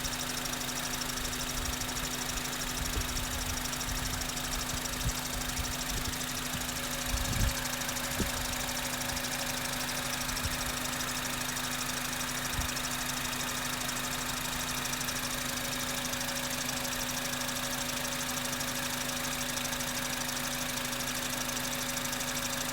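A car engine idles at a steady, even drone throughout, with a constant low hum and a few brief knocks or clicks early on, heard alone without talk.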